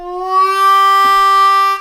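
Blues harmonica lick on a C harmonica with an octave jump and glissando, a single sustained bright tone bending smoothly upward, close and clear with no talking.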